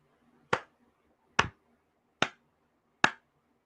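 Four slow, evenly spaced claps, sharp and close, each about a second apart, standing alone in a quiet room.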